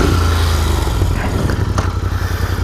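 A 2019 Royal Enfield Continental GT 650 motorcycle engine runs close and loud with a steady, lumpy idle throb that holds evenly throughout.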